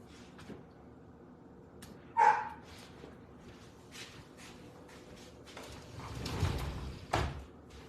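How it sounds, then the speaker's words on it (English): Lucy the dog barks outdoors at a distance, a few sharp barks rising over a quiet room, the clearest burst coming early and another pair near the end, with no one talking. "Lucy's out there barking for her boyfriend to come back out."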